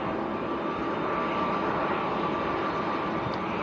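A Boeing 787 Dreamliner airliner at Manchester Airport gives a steady, broadband jet roar that holds at an even level throughout, filling the air without pause or talk.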